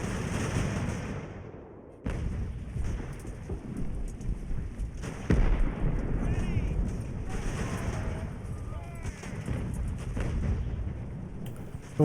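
Mortar fire striking in the naval battle game Ultimate Admiral Age of Sail, several heavy booming impacts with rumbling tails over a continuous battle din, someone talking over parts of it.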